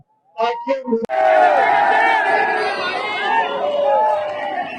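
Supporters crowd a politician's rally at Ashok Vihar Ramlila Ground. After a brief voice, the mass of people bursts into loud, dense shouting and chanting that holds steady to the end.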